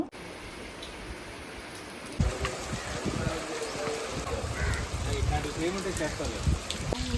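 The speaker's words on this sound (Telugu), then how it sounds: "వర్షం అయితే అసలు పడుతూనే ఉంది" Rain pours steadily, a dense patter on surfaces that grows heavier after the first couple of seconds and stays constant.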